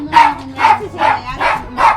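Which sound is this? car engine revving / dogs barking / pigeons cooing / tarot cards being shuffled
dogs barking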